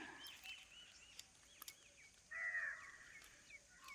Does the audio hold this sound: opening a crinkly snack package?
no